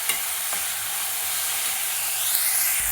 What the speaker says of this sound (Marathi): जिरे भाजल्यानंतर कांदा आणि टोमॅटो चांगला भाजून घ्यायचा।